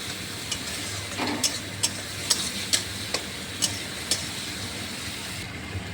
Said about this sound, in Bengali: দিয়ে ভালো করে একটু কষিয়ে নেবো